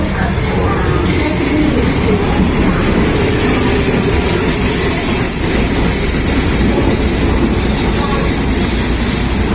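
Train rushing past close by in Bangkok, Thailand, a loud continuous roar of wheels and rail rumble that fills the whole stretch, with voices faintly underneath.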